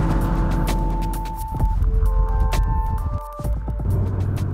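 A Porsche Cayman S engine pulls hard on a test track, a loud steady droning roar with a firm upshift that briefly drops the note before it climbs again.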